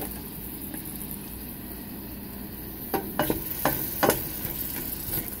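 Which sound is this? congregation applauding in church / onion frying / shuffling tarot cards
onion frying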